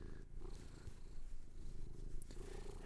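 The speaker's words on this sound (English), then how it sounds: "What a baby kitty." Cat purring close up, a soft continuous low rumble with faint background room noise and no talking.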